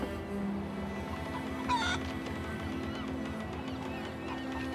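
Chickens squawk faintly in a brief burst under a steady background drone, carried aboard a small boat.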